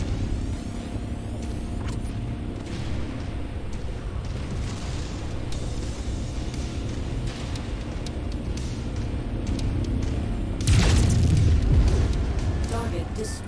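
A mech is destroyed in MechWarrior 5, played in VR: a deep booming explosion bursts out near the end over a continuous low rumble of battle and machinery.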